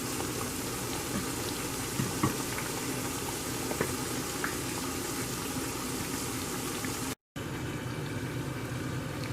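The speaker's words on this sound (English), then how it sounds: "that grease is all hot like I needed it now. And the frozen steak fries are cooking up." Frozen steak fries frying in a pan of hot grease, a steady dense sizzle and bubbling that runs unbroken at even loudness, with a brief dropout near the end.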